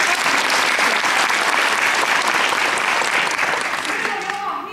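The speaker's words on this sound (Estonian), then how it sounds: "Teeme aplausime sinule." Sustained applause from a group in a dance class rings out loud and steady for a few seconds before tapering off, cheering a dancer after a practice run of the upa-upa dance.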